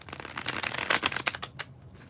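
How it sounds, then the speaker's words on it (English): A deck of tarot cards is bridge shuffled up close, producing a dense, rapid riffling flutter that cascades for about a second and a half, then ends with a few soft taps as the cards settle. "When I do the bridge shuffle here at Free Will Tarot"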